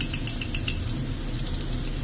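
Garlic and ginger fry in oil for a choy sum stir-fry, giving a steady close sizzle with a few light metallic clinks near the start and no talking.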